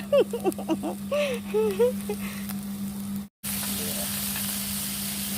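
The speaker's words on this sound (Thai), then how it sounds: "ทอดเบอร์เกอร์ค่ะ ควันขโมงชงเชงเลย" Burger patty frying in a smoky pan gives a broad, steady sizzle. It is preceded by a few seconds of a low constant hum with chirpy tonal sounds, then a brief dropout.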